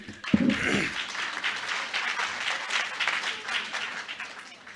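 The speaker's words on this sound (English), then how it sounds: "please hold your applause until after the candidate's speaking" Audience members at a city hall candidate forum clap after a candidate finishes, a moderate, steady patter of applause that lasts a few seconds and stays fairly even before easing off.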